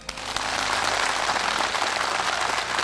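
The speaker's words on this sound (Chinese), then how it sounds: "首先，让我们以热烈的掌声欢迎今天到来的每一位观众朋友" A television studio audience claps in warm welcome at the opening of a Shaanxi TV charity talk show about farmers. The applause is a steady, dense wash of many hands that holds at an even level for several seconds, with no voices.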